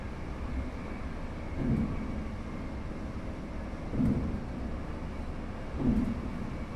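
A train in the video game Train Sim World 4 on the Fife Circle Line rumbles quietly and steadily over the track, with three faint periodic thumps of wheels crossing rail joints.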